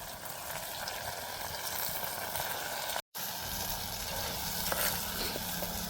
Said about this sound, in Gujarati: હવે મિત્રો હવે આપણે આને તેલમાં ટમેટાને હળવા દઈશું 2 થી 5 મિનિટ